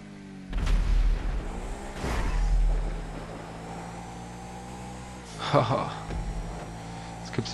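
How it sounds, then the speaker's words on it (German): Explosions and car engines in a GTA Online Santa-themed street race, with broadband booms near the start, around the two-second mark and again late, over steady vehicle hum and some background chatter. "jetzt gibt's ja mal richtig Explosionen hier"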